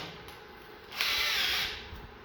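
A power drill with a step drill bit whirs briefly, rising to a louder high-pitched grinding burst in the middle as the bit cuts into metal, then easing off.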